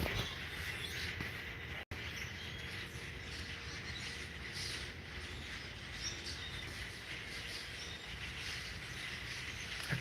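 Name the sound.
birds chirping outdoors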